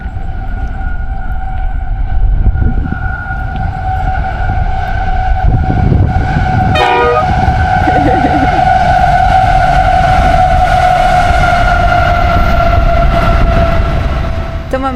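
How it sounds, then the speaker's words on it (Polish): A train hauled by a yellow locomotive rolls past in South Australia, a loud steady rumble of wagons under sustained horn-like tones, with a brief metallic screech midway. "Pociąg!"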